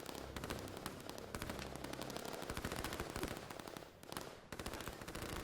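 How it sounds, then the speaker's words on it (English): Rapid machine-gun fire from units in the strategy game Line War, dense overlapping bursts of shots crackling continuously at moderate loudness with a brief lull near the end. "I can hear the gunfire from these guys"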